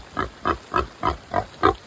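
A mother pig with newborn piglets gives six rhythmic grunts in steady succession, close and fairly loud, with no voices.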